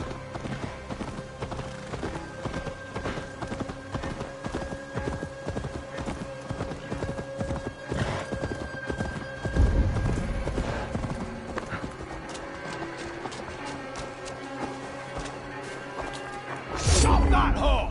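Rapid hoofbeats clatter steadily as a horse gallops, with loud thuds partway through and near the end, amid a busy game soundscape.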